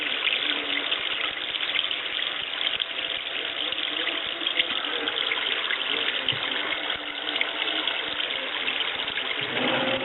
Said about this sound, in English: I'm just going to go ahead and fill the washing machine all the way up with water